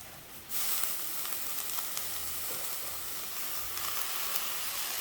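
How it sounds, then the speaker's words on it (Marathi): Spinach hits a hot pan already holding garam masala, bursting into a loud, close sizzle that holds steady with faint crackles and stirring. "आता ह्यामध्ये मी पालक घालते"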